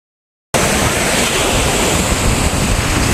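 Sea waves break on a beach lined with coconut trees on the Kerala coast, a dense, loud roar of surf mixed with strong wind buffeting, starting abruptly after a short silence.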